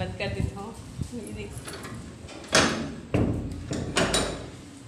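A door swings shut with a solid thud, followed by a couple more knocks and bumps nearby, over a steady background hum.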